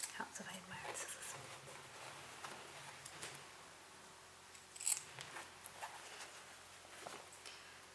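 Scissors snip the corners of a fabric pull-string pencil case, with a few quiet, close cuts over a soft room hush and faint handling noise.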